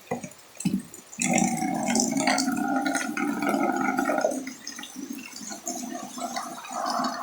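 Rainwater from Typhoon Enteng splashes and gurgles into a bucket in Biñan, Laguna, a steady close-up watery burble with drips, continuing without pause throughout.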